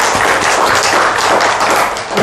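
A church congregation applauding during a Sunday worship service, dense and steady clapping that fills the whole stretch, loud and close, then easing slightly near the end.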